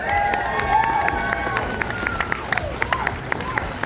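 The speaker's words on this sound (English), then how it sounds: "let's have a big round of applause for everyone in this category" A convention crowd at a horror fan event gives a round of applause and whoops during a costume contest, with sharp individual claps and cheers scattered over a busy murmur and people talking nearby.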